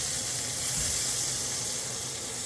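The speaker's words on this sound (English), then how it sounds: "Hear that sizzle? That's the sound you wanna hear." Butter sizzling as it melts in a hot frying pan before mushrooms go in for a steak and creamy mushroom sauce, a steady bright hiss that stays even and close throughout with no talking.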